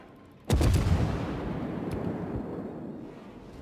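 A single loud naval gun salvo booms from a heavy cruiser in World of Warships, a sharp blast followed by a long rumbling decay that fades over a few seconds.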